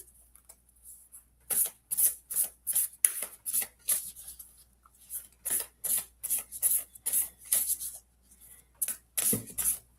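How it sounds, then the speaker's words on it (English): A tarot card deck is shuffled by hand, a run of quick, close papery riffles and slides in irregular bursts, with no talking over it. "So I'm just going to shuffle this up."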